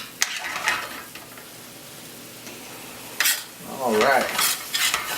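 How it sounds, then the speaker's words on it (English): Stirring and scraping in a pan as Marsala wine goes in to deglaze the chicken pan, with soft sizzling, a few utensil clinks and scrapes, and a brief spoken word near the start. "When we add our wine, we're also deglazing the bottom of our dish"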